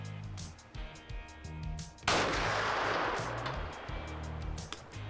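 Sig P320 XFIVE Legion pistol firing Sig 124-grain V-Crown jacketed hollow points, one sharp loud shot cracking out over a low background hum and echoing briefly afterward.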